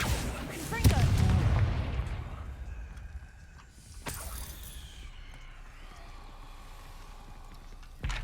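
A Confringo blasting spell goes off in Hogwarts Legacy, a loud booming burst near the start followed by a second sharp blast midway, then a low rumbling tail of game ambience.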